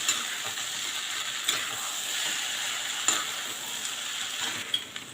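Poha stirred in a pan over a low gas flame: a steady soft sizzle with scraping strokes and a few sharper clinks from the spoon against the pan, close and continuous, no voices.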